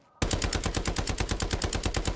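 Rapid automatic gunfire in Call of Duty Black Ops 6, a steady stream of loud, evenly spaced shots that bursts in abruptly after a brief quiet moment and keeps going without pause.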